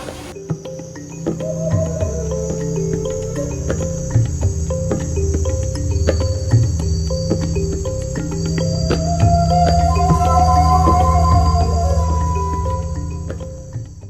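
Dense insect chorus of crickets trills continuously in the rainforest-themed grounds of Disney's Animal Kingdom, loud and close, with layered pulsing chirps and a high steady buzz, no talking.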